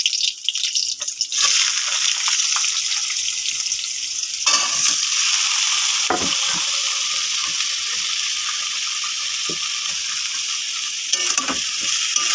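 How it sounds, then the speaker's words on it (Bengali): Vegetables hit hot oil and fry with a loud, steady crackling sizzle for Maggi noodles, broken by occasional scraping stirs of a spatula in the pan. "সবজিগুলো দিয়ে দিই, ভেজে নিই সবজিগুলোকে।"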